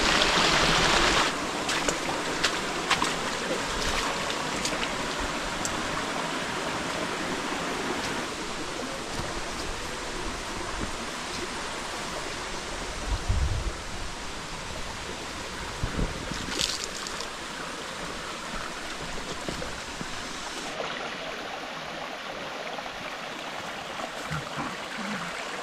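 A small stream runs past a stand of bamboo in the countryside, giving a steady, even rush of flowing water. Gusts of wind buffet the microphone now and then.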